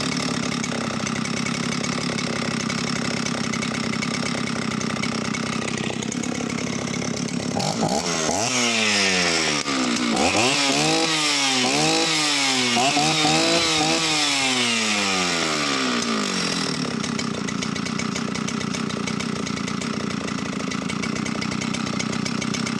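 An Oleo Mac 272 67cc professional chainsaw powerhead, with no bar fitted, idles loud and steady nearby. The engine is blipped through several rising and falling revs midway, then settles back to an even idle, with no speech.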